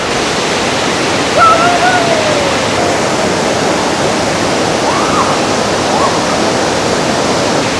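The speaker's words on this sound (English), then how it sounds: "you can hear the noise of the water now." Rushing water at Josephine Falls roars as a steady, loud, broadband wash that never lets up, with faint voices briefly audible over the constant flow.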